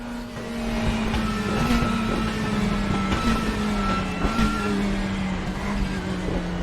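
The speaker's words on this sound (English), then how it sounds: "The sounds in these cars are pretty impressive." A McLaren 720S GT3 DTM race car at Lausitzring in the RaceRoom racing game, its engine droning steadily with small pitch shifts through gear changes, fairly loud and with no talking.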